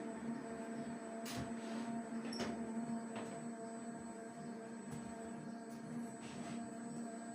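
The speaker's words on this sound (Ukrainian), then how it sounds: "Медогонкою дуже задоволений. Просто просто нема слів. Працює ідеально, це вже третій рік." A honey extractor spinning frames of rapeseed honey, a steady mechanical whine and hum with a few soft knocks and clatters, close and fairly quiet.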